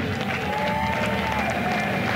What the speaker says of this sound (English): Giving a round of applause to Norbert Kiss